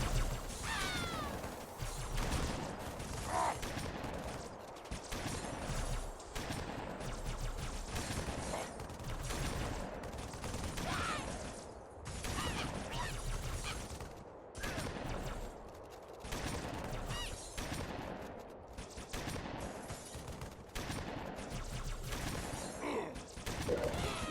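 Rapid automatic gunfire from a Halo Wars real-time strategy battle involving ODST infantry, dense and continuous bursts with crashes and mechanical clatter layered throughout, loud and sustained with brief dips.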